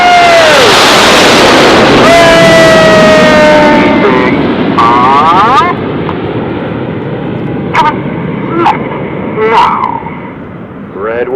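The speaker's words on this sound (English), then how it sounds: "Red 1 leads the aircraft over in big battle formation" The Red Arrows display team jets roar overhead in big battle formation at an air show, a loud, sweeping jet rush that peaks early and then fades, while an announcer speaks over it and a crowd can be heard.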